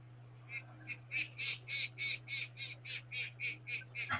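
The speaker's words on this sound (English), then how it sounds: "You'll say I'm hearing ducks." Ducks quack in a steady, evenly spaced series of about a dozen calls, fairly faint and somewhat distant, over a constant low electrical hum.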